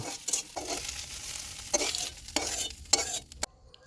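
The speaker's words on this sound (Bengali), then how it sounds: "ডিমটা ভাজা হয়ে গেলে ওটাকে আলাদা করে একটা পাত্রে তুলে রাখব" An egg fries in a hot pan, a close sizzle interrupted by several sharp scraping strokes, dropping to near quiet at the very end.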